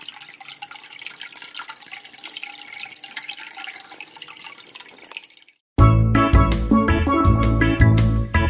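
Water running and splashing steadily as it is transferred into a home fish tank, a continuous near trickle for about five seconds before loud music cuts in.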